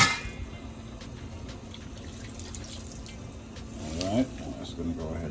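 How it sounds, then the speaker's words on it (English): Pieces of sea moss are dropped into a pot of boiling water, giving a soft bubbling, watery sloshing with a clang of the pot and small splashes, close under faint background hum. "we're gonna add our moss piece by piece"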